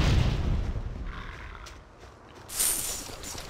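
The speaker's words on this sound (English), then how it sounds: "Stun them and then kill them with my cannon." Cannon fire from an Engineer character in the action RPG Torchlight 2, a booming, roaring blast at the start followed by a second burst near the end amid game sounds, with no talk.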